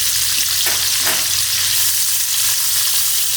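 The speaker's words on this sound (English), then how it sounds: "I'm going to cook the onions on a high heat for about 5 to 7 minutes." Sliced onions fry loudly in a pan over high heat, a dense, continuous sizzle with brief stirring scrapes early on, close and alone without talk.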